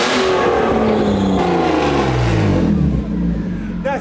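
Drift car engine with the resonator removed revs hard and loud up close, a raspy roar rising and falling in pitch, with a brief squealing whine near the end.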